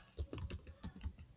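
A handful of separate computer keyboard key presses, including the Tab key, tapped in an uneven rhythm at close range, moderately quiet with no voices.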